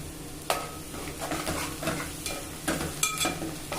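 Potatoes fry with turmeric in a pan, a continuous sizzle under repeated scraping and stirring strokes, with occasional light metallic clinks of a spoon against the pan; nobody talks.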